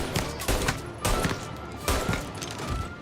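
Gunshots in the Mafia video game, several loud, spaced bangs with echoing tails, fired in a steady rhythm about half a second to a second apart.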